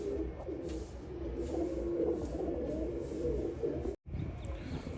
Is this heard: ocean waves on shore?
no